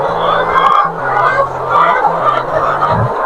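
Laying hens in a crowded poultry house of about 2000 birds cluck steadily, with a dense overlapping chorus of calls and clucks, fairly close and continuous, without clear talk.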